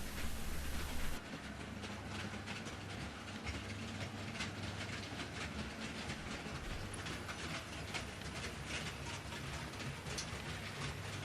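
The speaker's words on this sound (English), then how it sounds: "The military special arrives at Fettleworth from Deal, pulled by an SECR O-Class loco." An SECR O-Class locomotive hauls a military special train on a model railway, giving a faint, continuous rolling rattle with steady rhythmic clicking of wheels over track joints throughout.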